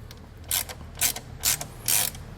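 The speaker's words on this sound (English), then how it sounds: "So now we're going to loosen up the nut on the battery terminal." A ratchet wrench loosening a 10 mm nut on a battery terminal of a 2021 Ford Bronco gives four short bursts of rapid clicking at a steady pace, close and clear, with no talk.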